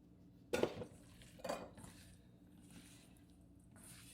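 Seasoned salmon pieces are mixed with white pepper, salt and cornstarch in a bowl, giving two close, distinct clinks and squishy scrapes of utensil against dish, followed by quieter faint handling.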